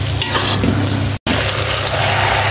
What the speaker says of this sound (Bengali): আর আস্তা রসুন দিয়ে দিলাম। মশলার সাথে কষিয়ে নেব।